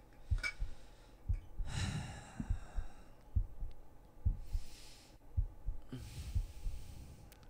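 A steady heartbeat thumps in a regular double rhythm, low and close, with soft breathing sounds drifting in between beats.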